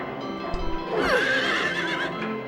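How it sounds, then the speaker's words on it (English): A horse in the video game Silent Hill 3 whinnies loudly, a single drawn-out neigh, with a few soft hoof clops before it, close by. "Horse is moving."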